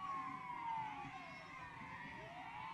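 A police car siren at a South African Police Service festive-season operations launch wails in rising and falling sweeps, fairly faint and distant, heard continuously throughout.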